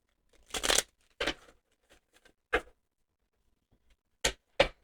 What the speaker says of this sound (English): These cards are not shuffling very easily